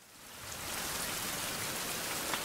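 Steady rain falls in a survival video game, a dense even hiss that swells in over the first second and holds at a constant level.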